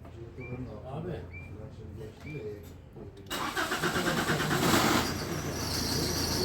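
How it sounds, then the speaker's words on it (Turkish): A 2006 Tata Indigo diesel car engine cranks and starts after about three seconds of quieter background with faint voices and a bird, then runs loud and steady at a rough diesel idle, close by. "Çalışmayacak mı diye umudu kestiğin anda marşa bastı ve çalıştım dedi."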